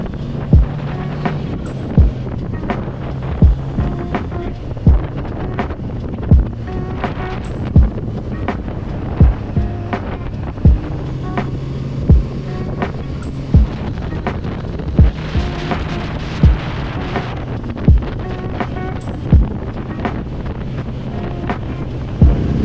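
Wind buffets the microphone on a Maine beach, with ocean surf rumbling underneath and sharp periodic gusts or thumps recurring every second or so over a steady roar.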